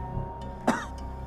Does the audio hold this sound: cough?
yes